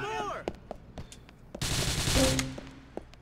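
Gunfire in the GTA IV video game, with sharp isolated shots followed by a fast loud burst of automatic fire, then scattered single cracks, and a voice briefly speaking near the start.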